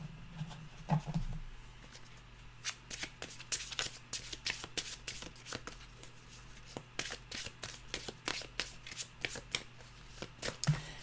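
Animal oracle cards are shuffled by hand in a quiet room, giving repeated crisp riffling and flicking bursts with short pauses between, close and fairly soft.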